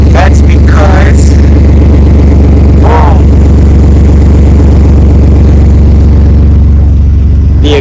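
A car engine runs loud and raw after its exhaust fell off, a steady deep rumble that drones on throughout, close and dominant, with brief voices and squeaks faintly over it.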